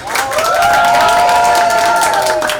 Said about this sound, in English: let's have a huge round of applause for Split Villain